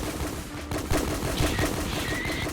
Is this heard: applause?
no